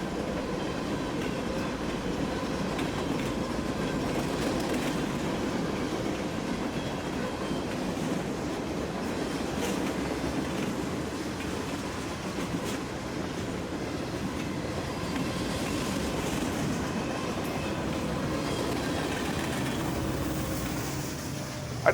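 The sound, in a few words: Norfolk Southern freight train passing with DPU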